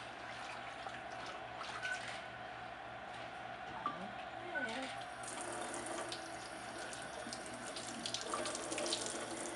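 Water runs from a tap for rinsing in a hot tub setting, a steady faint splashing stream heard close by, with soft voices in the background.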